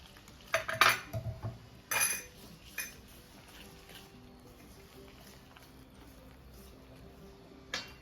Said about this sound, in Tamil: கொஞ்சம் கொஞ்சமாக தண்ணி ஊற்றி இந்த பஜ்ஜி மாவு பழத்துக்கு கலந்துக்கணும்.